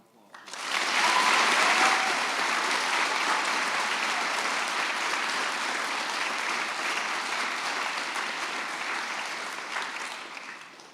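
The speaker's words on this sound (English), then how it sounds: "So if you could give them a round of applause." A large school gym audience at Tulpehocken High School's Veterans Day assembly breaks into sustained applause for veterans, a broad, steady roar of many clapping hands that swells quickly, holds for about ten seconds, then fades.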